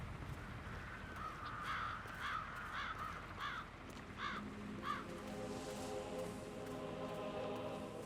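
Crows caw in the video game Hitman 3, a run of about seven harsh calls spaced roughly half a second apart over a steady outdoor ambience, fairly close and clear.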